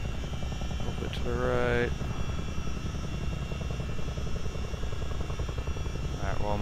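A Chinook CH-47D twin-rotor helicopter in Microsoft Flight Simulator drones with a steady, dense rotor and engine roar throughout, while someone speaks briefly over it.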